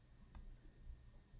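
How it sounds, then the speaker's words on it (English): A single faint computer mouse click sounds close in a quiet room, a sharp brief tick with a soft second tap shortly after. "so I'll click out of that"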